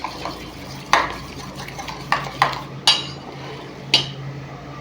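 A spoon stirs beaten egg with chili powder and salt in a bowl, giving several sharp clinks against the rim at irregular intervals over a low background hum, close and fairly loud.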